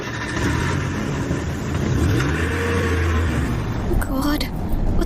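A car engine hums and revs as the vehicle pulls away in a Hindi romantic radio drama, a steady close mid-pitched drone with voices talking over it.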